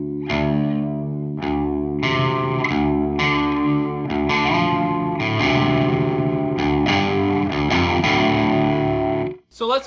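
Electric guitar chords strummed through a Randall Diavlo RD1H amp with a mostly clean, slightly crunchy tone, steady and fairly loud, ringing for about ten seconds before a brief cutoff.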